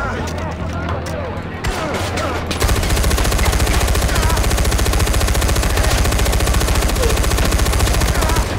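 Sustained automatic fire from a machine gun in the video game Far Cry 4, starting after a few seconds of scattered shots and continuing loud and unbroken to the end, with voices talking over it.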